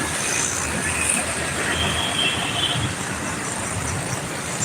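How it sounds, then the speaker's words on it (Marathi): A train rumbles past with continuous rolling noise and faint high squeals from the wheels, steady and moderately loud. "ही बघा ट्रेन"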